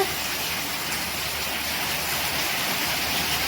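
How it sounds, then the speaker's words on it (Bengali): Heavy rain pouring down in a dense, constant hiss, loud and unbroken throughout. "প্রচন্ড বৃষ্টি পড়তেছে।"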